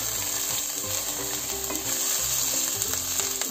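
Chopped onions, cut in large feathered slices, fry in olive oil in a pot over medium heat, giving a steady, close sizzle with faint stirring scrapes throughout and no voices.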